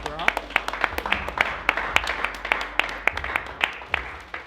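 A studio audience at a reunion show claps in a lively burst, sharp individual hand claps ringing out close and irregular over a steady bed of applause for several seconds.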